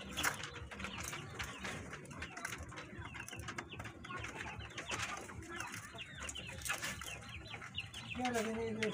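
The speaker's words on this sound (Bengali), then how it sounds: "মুরগি" Chickens cluck and pigeons coo around feeding time, a dense nearby chorus of overlapping bird calls with scattered human voices mixed in.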